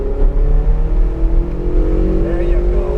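A Ferrari 488 GTB accelerates hard on a track in Pontiac, its engine roaring steadily and rising in pitch from inside the cabin, with an instructor's voice talking over it.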